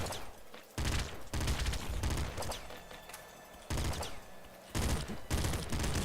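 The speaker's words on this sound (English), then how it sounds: "So, assault rifle. One of my favorite weapons probably." Assault rifle gunfire from the video game Nuclear Throne, loud repeated bursts of shots in short clusters, with brief pauses between volleys.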